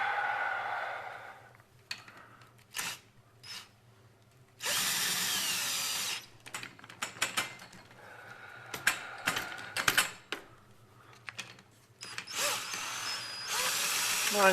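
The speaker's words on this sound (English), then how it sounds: "I have a drill with a socket in it." A power drill with a socket runs in short bursts driving small bolts on a garage door spring, whirring and ratcheting with pauses between, loud and close, with no voices.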